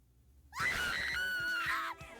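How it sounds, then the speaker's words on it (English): A loud, sustained scream from a female character in a Danganronpa fangame visual novel, rising abruptly and holding for about a second and a half before breaking off, alone with no talk. "Oh, you scream really loud."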